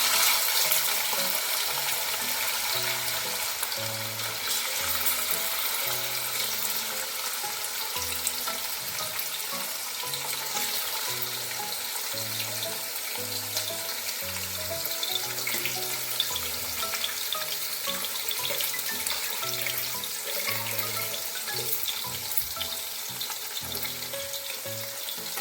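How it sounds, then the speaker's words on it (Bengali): Chicken pieces fry in hot white oil in a wok, giving a steady, close sizzle for the whole stretch, with occasional stirring clatter and soft scraping underneath. "এবার এই তেলের মধ্যে আমি অল্প অল্প করে চিকেনগুলো দিয়ে ভেজে"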